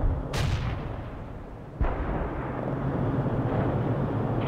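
Artillery fire in the war video game World in Conflict: two heavy booms about a second and a half apart over a steady battlefield rumble, with no voices.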